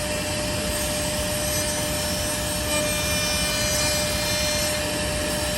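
A single-head horizontal CNC drilling-milling machine works the side edges of industrial board, giving a steady, loud, whining mechanical drone with a constant high tone that swells slightly midway and runs unbroken without speech.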